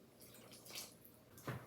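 Water poured from a one-cup measure into cake-mix batter with eggs and oil for a Halloween cake; a faint, brief splashing pour, quiet and without talk.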